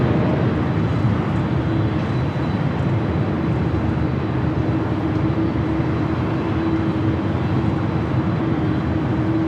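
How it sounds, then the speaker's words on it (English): A United Boeing Dreamliner rolls down runway 25 right at Los Angeles airport on takeoff, a constant broad jet roar with a steady low engine tone, distant and unbroken, no voices. "we do have United Dreamliner rolling down at 25 right"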